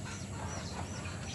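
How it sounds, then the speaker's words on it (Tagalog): Chickens and turkeys on a backyard farm cluck softly in a brief, dense patch of fowl noise, close and fairly quiet, with no talk during it. "mga manok, pabo namin"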